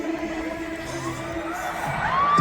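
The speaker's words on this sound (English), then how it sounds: "causing the audience to erupt in cheers" A concert audience roars and cheers, a dense crowd noise that swells louder toward the end with some tonal sound underneath.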